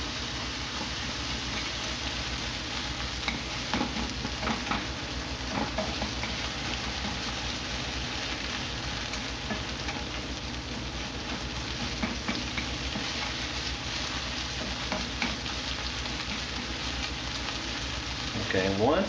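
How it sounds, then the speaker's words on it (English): Ginger and green onions stir-fry in hot oil for a chicken and bean sprout dish, giving a steady, close sizzle with faint scraping of stirring throughout and no talk. "So you want to stir fry it for at least 34 seconds, make sure all the flavors are getting inside of the oil."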